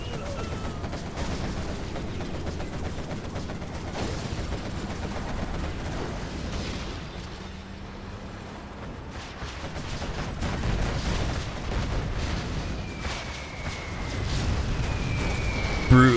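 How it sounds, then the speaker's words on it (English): Carpet bombing in a video game match, a continuous rumble of overlapping explosions and rattling fire that builds toward the end, with a commentator talking over it. "Brutal carpet bomb there from Marakar."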